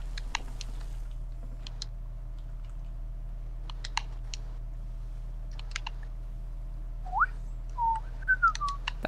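A person whistles a few short rising and falling notes near the end, preceded by scattered keyboard and mouse clicks over a low steady hum.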